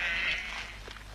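Domestic sheep and goats bleat in Turkey, a loud, wavering cry at the start that fades, followed by fainter calls from the flock.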